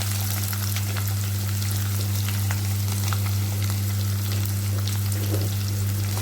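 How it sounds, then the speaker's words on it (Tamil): Onions sizzle and fry in hot oil with cumin, fennel seeds, green chilli and curry leaves for an egg curry, a constant close crackling hiss over a low electrical hum. "வெங்காயத்தை நல்லா அந்த எண்ணெயில் கிண்டி விட்டுட்டு இப்போ இந்த வெங்காயம் வதங்கிட்டு இருக்கும்போது"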